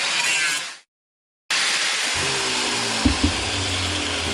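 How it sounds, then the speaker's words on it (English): A grinder cuts into a crack in an aluminium wheel, a loud, harsh whine that stops briefly and then starts again with a steady hum beneath it. "And then grind into the crack."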